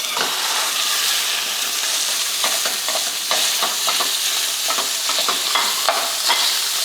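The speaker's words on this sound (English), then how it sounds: "So this oil is pretty hot now. So I'm gonna go ahead and add 1 pound of ground beef to our skillet." A pound of ground beef hits hot oil in a skillet, giving a loud, dense sizzle with scattered pops and spatters throughout; no talking.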